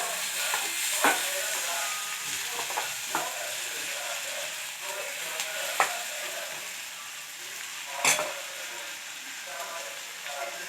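Onion and turmeric sauté in a pan with a dense, continuous sizzle, broken by a few scraping stirs and one louder knock, steady and close.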